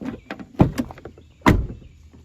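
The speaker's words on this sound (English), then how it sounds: "Door shuts." The door of a 2012 Chevy Impala is shut, giving a solid, close thump, followed by a second heavier thud after a short pause, with light handling clatter between.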